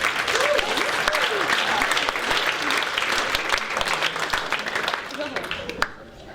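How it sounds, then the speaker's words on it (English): An audience at a social media and live streaming event applauds, a steady wash of many hands clapping with a voice briefly heard early on, fading out near the end. "can we just give once again a big round of applause for Lucy and Lavelda and Social Day"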